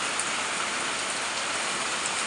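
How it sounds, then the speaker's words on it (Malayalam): Heavy night rain pours in the Kallarkutty high range near the dam, a dense, loud and unbroken roar of drops hammering surfaces with no voices. "ഞങ്ങളുടെ കല്ലാറൂട്ടി ഹൈ റേഞ്ച് മേഖലയിലേക്കുള്ള മഴയാണ് ഇത്"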